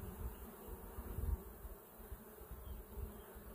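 Honey bees buzz around a hive super being pulled for extraction, a soft, steady, low drone with slight swells in loudness, close by and alone without talk.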